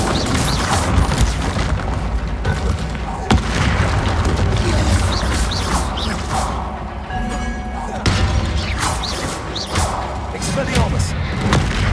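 Bombarda spell explosions in the Hogwarts Legacy video game, with heavy booms and thuds bursting out at intervals over a dense, continuous layer of game combat sound.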